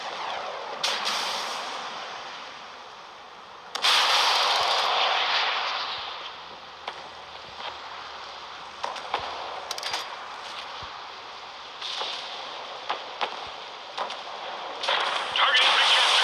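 Missile launches and gunfire aboard a warship in a naval combat video game, with broadband blasts and bursts roaring in at several points, layered with synthetic noise and scattered sharp impacts, while voices issue commands.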